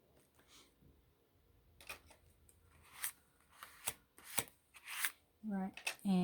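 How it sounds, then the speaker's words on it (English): Scissors snip words out of paper in a quiet room, a series of soft, irregular close-up cuts and rustles that grow louder toward the end, with brief speech. "I think I'll cut out these words too."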